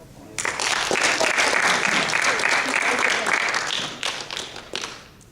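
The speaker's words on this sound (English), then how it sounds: "Please give her another round of applause." An audience at a poetry laureate program bursts into loud, sustained applause for a poem, dense clapping that swells quickly, holds for several seconds, then thins into scattered claps.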